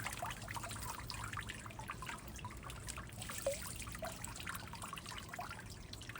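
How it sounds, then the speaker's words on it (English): Spring water trickles and splashes steadily from a rock cliff face, a continuous close-up babble with small bright drips scattered throughout and no voices. "Here's the cliff face that the water springs out of."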